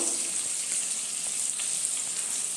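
Cumin powder, turmeric and dry chilli powder are sautéed in hot oil for a Bengali dim vapa masala. A steady, close hiss of frying runs without a break.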